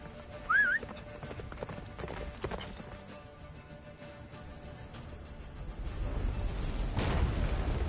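Roach the horse galloping in The Witcher 3, rhythmic hoofbeats under game noise with a brief whinny early on and a swelling rumble toward the end.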